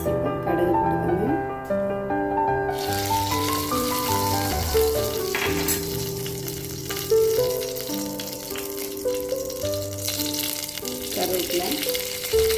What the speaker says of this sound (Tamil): எண்ணெய் சூடாயிடுச்சு. இப்போ கடுகு போட்டுக்கோங்க.